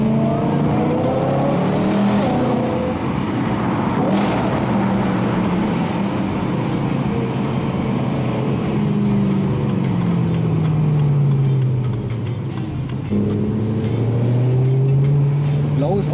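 A BMW E92 M3 drives along with its engine droning under a steady road rumble, shifting in pitch as it accelerates, while people talk inside the car.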